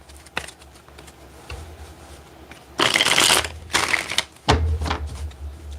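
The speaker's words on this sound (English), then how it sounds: "Let me get one more good shuffle, y'all. I want to make sure I got them shuffled up nice and well here." A deck of tarot cards is riffle-shuffled in several quick, crisp bursts, close and loud, with softer handling rustles between them.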